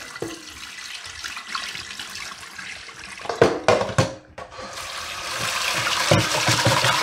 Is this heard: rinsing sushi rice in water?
yes